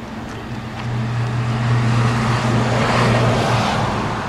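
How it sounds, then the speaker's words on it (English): A number 39 city bus passes close by, its engine drone and road rumble swelling steadily and holding loud, with a low tonal hum throughout. "There goes the 39 bus."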